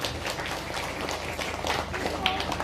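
An audience at a lively stage show in Cilacap claps for a music group from Jogja, a dense, continuous patter of applause running beneath someone speaking.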